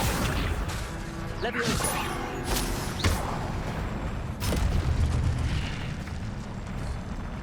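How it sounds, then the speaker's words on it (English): Fire magic spell cast in the video game Hogwarts Legacy, several whooshing fiery bursts and crackling blasts over a dense, busy game soundscape, with someone talking over it. "See, this fire magic, it kind of sucks."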